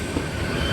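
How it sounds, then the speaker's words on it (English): A passenger train bound for Tortosa pulls into a station on the line from Barcelona, a brief, steady rolling rumble of wheels and carriages close by, with a faint squeal on top. "Just arriving now, it's going to be a 7-pound for Tortosa."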